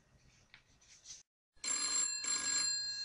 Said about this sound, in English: So it looks like we're getting another phone call.